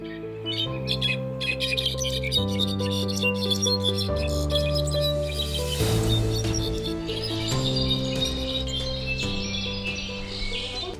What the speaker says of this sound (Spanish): Lo que estamos escuchando es un clarín jilguero, es una ave muy bonita